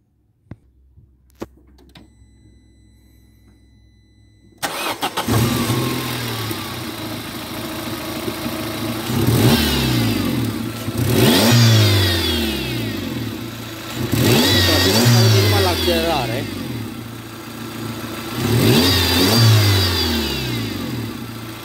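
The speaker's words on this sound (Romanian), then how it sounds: "atunci când îl porneți și accelerezi un pic motorul, se aude un zgomot foarte ciudat la motor." Opel Astra H 1.6 petrol engine cranking to life after a short quiet stretch, then idling and revving repeatedly in four rising and falling bursts, with a strange mechanical whine riding over the engine throughout, recorded close and loud.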